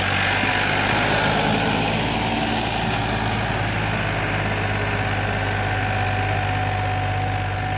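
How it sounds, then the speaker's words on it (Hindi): An old Farmtrac tractor engine runs steadily at idle, a loud, deep, chugging throb with constant vibration, heard close by and alone. "ये कमाल का चल रहा है ट्रैक्टर भाई"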